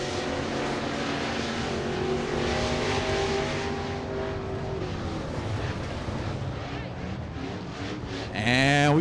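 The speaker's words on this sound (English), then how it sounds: "Chris Nix driving the 44 classic car sedan." A classic car sedan race car at 411 Motor Speedway in Sevierville, its engine droning loudly as it goes into turn three alongside other cars, with an announcer talking throughout and a sharp rising rev near the end.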